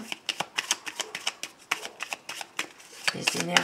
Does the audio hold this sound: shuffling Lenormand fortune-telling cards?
yes